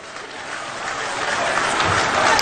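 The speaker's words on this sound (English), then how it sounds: "With a huge round of applause, ladies and gentlemen, let's welcome His Excellency John Mahama." An audience applauds a welcome for John Mahama, flag bearer of the National Democratic Congress in Ghana, a steady wash of crowd clapping building slightly over a few seconds.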